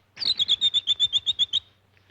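Animated birds in a Disney cartoon give a quick run of about a dozen bright, evenly spaced chirps, clear and close, with no talking over them.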